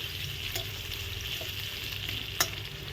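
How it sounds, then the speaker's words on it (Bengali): Steady, fairly loud sizzling of potatoes frying in a pan, with faint stirring clicks and one sharp scrape near the end. "আলু তো ভাজা হচ্ছে"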